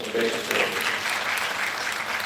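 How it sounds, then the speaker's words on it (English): Steady applause from a comedy-show audience in a dimmed venue, moderately faint and continuous, with a few crowd voices mixed in. "Clap if you grew up poor."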